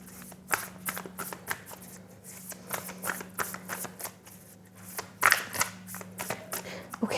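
A deck of tarot cards is riffled and shuffled by hand at close range in a reading session, a quick run of crisp flutters and slaps over a faint steady hum, with no talk.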